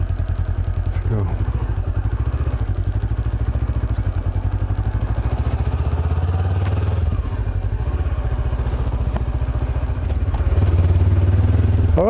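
A Honda CB500X adventure motorcycle being ridden, its mid-pitched engine droning steadily close by throughout, with wind roar and occasional thumps and clatter from the road.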